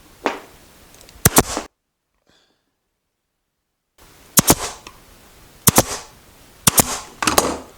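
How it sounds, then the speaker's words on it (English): Staple gun firing into upholstery fabric on a chair's wing and arm: sharp, loud double and triple clacks in quick bursts, separated by a stretch of silence, with faint handling rustle between shots. "just going to stick a few more staples down here just to hold this in place"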